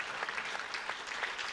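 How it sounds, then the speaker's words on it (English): Soft, distant audience applause at a talk about food and the city, an even patter of many hands clapping throughout without any voices on top. "give him a round of applause"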